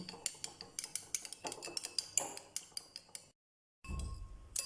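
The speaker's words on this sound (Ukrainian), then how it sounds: "Збиваємо його ось так ложечкою." A spoon clinks quickly against a bowl while whisking a salad dressing of soy or teriyaki sauce with balsamic, a rapid run of close metallic taps that stops briefly, then returns as a softer rustle.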